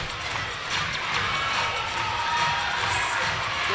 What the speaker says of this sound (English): Everyone's clapping along to this dance.